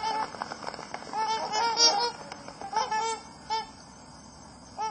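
Swans honk and trumpet before taking off, a flock calling in repeated short honks from near and far with brief overlapping bursts.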